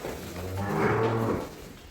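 A water buffalo lets out one low, drawn-out moo, fairly close and clear against quiet farmyard surroundings, with no talking.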